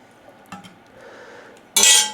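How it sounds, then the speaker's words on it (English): A ladle scrapes and taps inside an oven-proof dish while spreading sauce, giving soft clinks and a wet smear before a sharp loud metallic clatter near the end. "Let's take some of our sauce and spread it out in the bottom of our dish."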